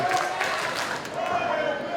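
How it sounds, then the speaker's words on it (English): A wrestling crowd at a VCW event in Norfolk chanting for Brian Pillman Jr., a rhythmic roar of many voices filling the arena with commentary talking over it. "listen to this crowd. They're chanting for Pillman."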